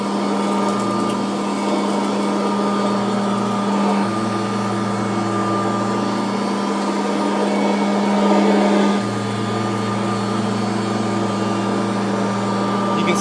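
A Kirby Heritage vacuum cleaner runs with a steady, close, droning motor whine and suction hiss that swells slightly partway through, with no talking.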